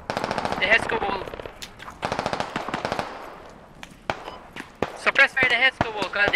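Machine-gun fire in a Squad military shooter game, repeated loud automatic bursts with scattered single shots, heard under tense voice chat from several players.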